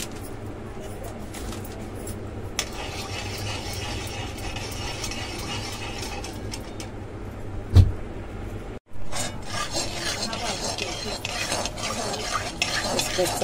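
Poppy seeds being stir-roasted in a pan for modak filling, a steady soft scraping and rubbing of a spoon against the pan, with one sharper clink partway through.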